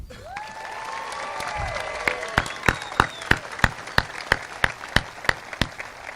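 A high school graduation audience (Triton High School, 2018) breaks into applause, with whistles and cheers rising over the crowd before loud, close, evenly spaced claps take over and keep a steady rhythm.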